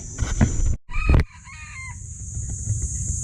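A small white chicken clucks and crows close by, with a burst of agitated cackling in the middle and steady outdoor background noise.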